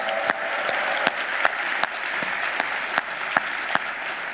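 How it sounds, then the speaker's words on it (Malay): Thunderous applause from a hall audience at a horror-night event during the KL Podfest 2024 podcast festival, a steady dense clapping bed punctuated by sharp, regular louder claps standing out near the front. "apa kata kalau kita berikan tepukan gemuruh kepada organizer KL Podfest 2024"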